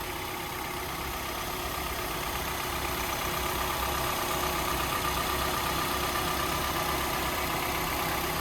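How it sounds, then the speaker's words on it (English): A 2011 Mazda 3s hatchback engine idles smoothly and steadily, a constant even hum with no changes in pace, heard up close with no talking. "very smooth running engine"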